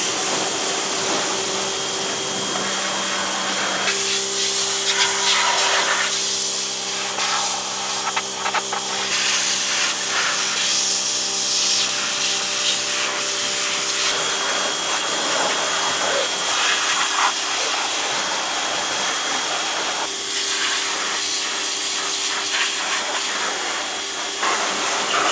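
Steady loud spray washer hiss blasts across a Nissan 240SX engine bay for the whole stretch, with shifting tone as the stream moves over parts and small gaps near the middle, close up and continuous.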